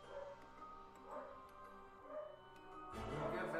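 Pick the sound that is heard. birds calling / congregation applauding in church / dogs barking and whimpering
dogs barking and whimpering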